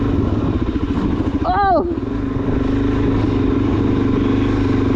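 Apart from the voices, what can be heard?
Suzuki DRZ400SM motorcycle riding through wet road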